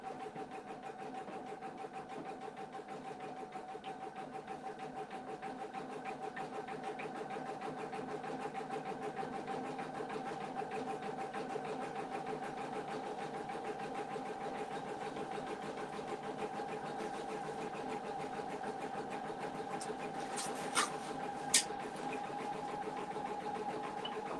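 Embroidery machine stitching a design, a steady, fairly faint mechanical whir with a constant even hum and rapid needle chatter, alone, with two brief clicks near the end.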